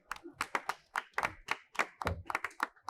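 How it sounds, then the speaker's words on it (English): A few people at a climate conference session clap to welcome a presenter, sparse distinct hand claps in an uneven rhythm, close and fairly quiet. "Please welcome her with a big round of applause."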